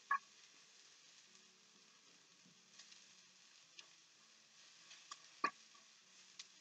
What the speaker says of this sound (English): We're just going to wilt these green onions just a teeny little bit